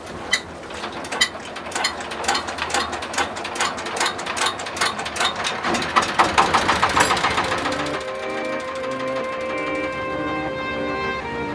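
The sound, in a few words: boat engine on the way to a Bangladesh floating market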